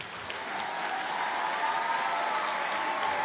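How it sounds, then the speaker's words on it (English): Steady applause from an audience at a nursing school white coat ceremony, a close, even wash of many hands clapping that holds for the whole stretch. "let's give this group, these students, another round of applause"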